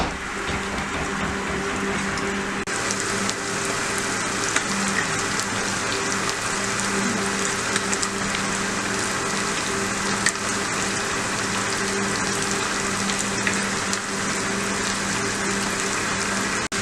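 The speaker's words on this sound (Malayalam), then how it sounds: "ഇനി ഇത് ഒരു സെക്ഷൻ വറുത്തെടുത്തിട്ട് നമുക്ക് ബാക്കി വറുത്തെടുക്കാം" Steady, loud crackling sizzle of fish frying in hot oil, a dense continuous hiss with a low hum underneath and no voices.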